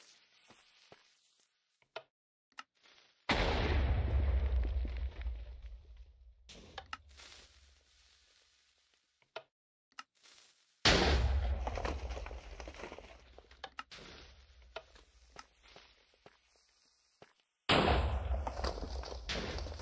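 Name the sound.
tank firing shots in Minecraft video game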